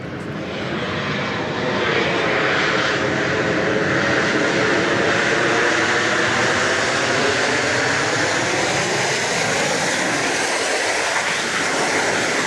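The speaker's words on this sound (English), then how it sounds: "Going along is that flight 1144 coming in from St. Louis" A Boeing 737-800, flight 1144 from St. Louis, arrives at Dallas Love Field with a loud, sustained jet roar that sweeps in pitch as it passes close by, with no voices.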